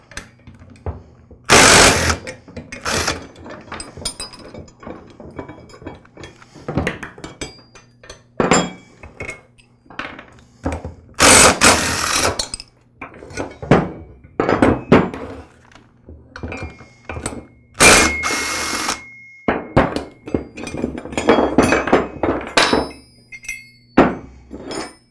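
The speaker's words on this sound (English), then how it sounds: "now I'll remove the tines on the other side of the tine holder" Tines being pulled off the tine holder of a Troy-Bilt Super Bronco tiller: repeated metallic clanks, bangs and clinks of hammering and tool work on steel, irregular and close, with short pauses between strikes.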